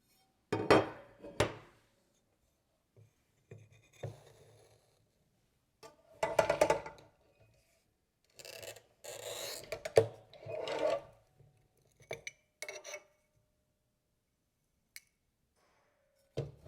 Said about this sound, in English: The same rubber mat could be very useful to cut glass tile like this.